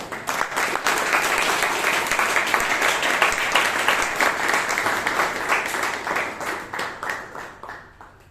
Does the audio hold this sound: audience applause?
yes